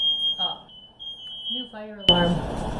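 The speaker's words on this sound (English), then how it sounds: "New fire alarm, smoke alarm" A new smoke alarm sounds a high steady beep, with a person talking over it briefly before a sharp clatter and rustling noise follows.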